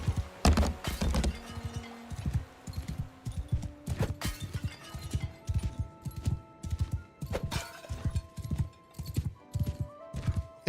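Galloping horse hooves in Mount and Blade: Bannerlord, a steady rapid clip-clop rhythm of hoofbeats with occasional whinnies and clashing battle noise behind, loud and close throughout.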